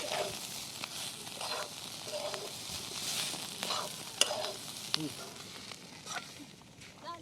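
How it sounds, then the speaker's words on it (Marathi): Chopped onion sautéing in a pan for dried fish chutney, a continuous soft sizzle with scraping stirs and occasional spoon clicks on the pan, close by. "कांदा टाकून बी मी एक मिनिटभर चांगलं परतून घेणार आहे"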